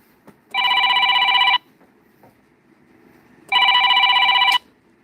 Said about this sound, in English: hold on. I gotta answer the phone.